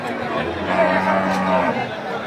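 Cattle at a busy rural cow market, a low lowing rumbling under nearby crowd chatter and people talking.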